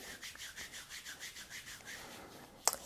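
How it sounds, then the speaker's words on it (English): Hands rubbing nylon kinesiology tape applied over the knee to activate the adhesive, a soft, rhythmic swishing friction repeating close by, ending with a brief sharper scrape. "we're just going to rub the tape to help activate the adhesive"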